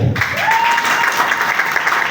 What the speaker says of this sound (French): il y a eu plusieurs dignitaires que je vous demanderai d'applaudir très fort